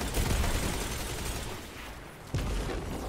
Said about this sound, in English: I'll shoot him from here